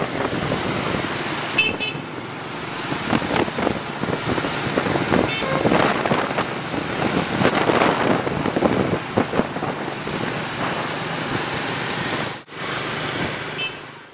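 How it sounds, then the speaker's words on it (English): Dense street traffic in Hanoi rumbles on with engines and scattered horn toots. Wind buffets the microphone throughout, and there is a short dropout near the end. "the traffic does seem to flow"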